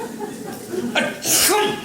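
A single sharp sneeze bursts out near the end of a stage play scene, preceded by a quick inhale and some faint talk or chuckling.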